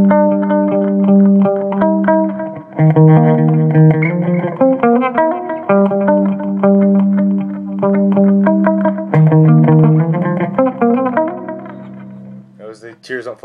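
An electric guitar tuned to drop C plays a song intro through a Line 6 Spider IV 30 amp, with clean, reverb-heavy picked notes that ring out and fade by the end.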